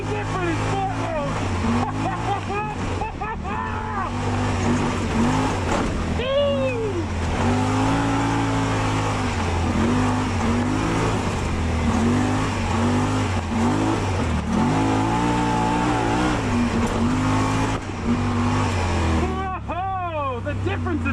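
Yamaha RMAX4 1000 four-seat side-by-side engine in sport mode, 2-wheel drive, revving hard and close with sharp throttle blips and rising, falling pitch swells, while voices talk over the loud motor.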